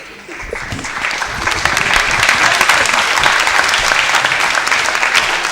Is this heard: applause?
yes